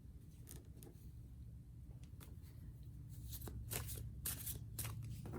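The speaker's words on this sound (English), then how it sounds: "I'm going to do a big girl shuffle." Crisp papery riffling of tarot cards being shuffled in quick bursts, growing busier toward the end, over a low steady hum, with no voices.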